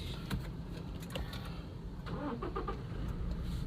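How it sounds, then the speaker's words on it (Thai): A Toyota Fortuner with push-button start cranks and catches, settling into a steady low engine idle close by, after a few faint clicks. "ลองมาเทสระบบสตาร์ทนะครับเหยียบเบรคค้างไว้ วางกุญแจไว้"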